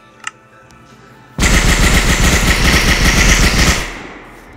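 A golden MP40 submachine gun in a modded video game fires one long, loud automatic burst lasting over two seconds. A faint click comes before it, and a short fading tail follows.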